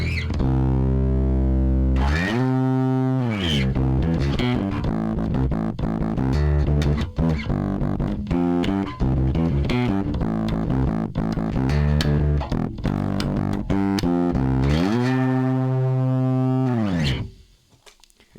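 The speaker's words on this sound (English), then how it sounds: "Let's just hear what it would sound like if we just took a 57 and distorted it." A heavily distorted bass line through a JHS Colour Box pedal and a 57 microphone, fuzzy sustained notes sliding up and down, loud and upfront, then cutting off abruptly near the end.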